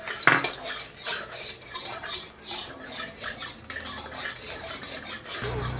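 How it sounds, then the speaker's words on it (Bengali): Lentil dumplings (bori) frying in a little oil in a pan, heard as close, repeated scraping and clinking of a utensil stirring against the metal, with a soft background hiss and no talking. "এবার একটু অল্প তেলে বড়িগুলোকে ভেজে নেব।"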